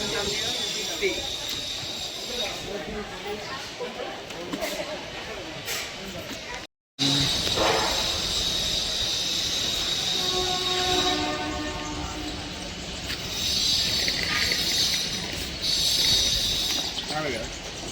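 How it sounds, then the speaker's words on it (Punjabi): A train at Sabarmati Junction rumbles and hisses with rising mechanical noise as it starts to move, a horn-like tone sounding midway, while people talk nearby. "ਟ੍ਰੇਨ ਤੁਰ ਪਈ"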